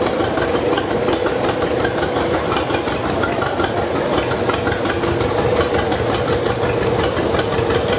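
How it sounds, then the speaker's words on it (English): A 1936 John Deere VR tractor engine runs steadily at a parade, a loud, continuous mechanical drone filling the scene with no pauses or voices. "Here's 1936 John Deere VR."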